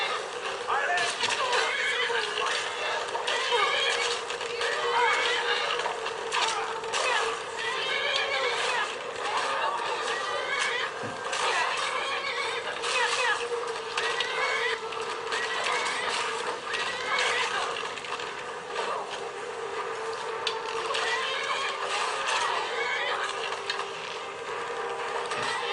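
Horses in a video game whinny and neigh repeatedly over steady clip-clop hooves and background game noise, fairly loud and continuous throughout, with a voice talking over it at times.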